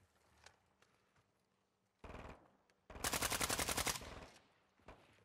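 Gunfire in Call of Duty: Modern Warfare II's DMZ mode, with a few sharp single shots, then a loud rapid automatic burst lasting about a second, followed by scattered quieter shots.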